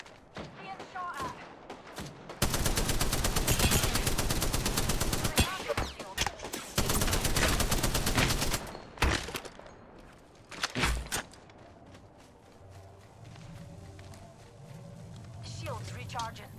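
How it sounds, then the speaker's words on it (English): Gunfire in Apex Legends, with long sustained bursts of automatic fire and sharp individual shots coming in waves, then fading to quieter movement and ambience, while a voice talks over it. "Being shot at."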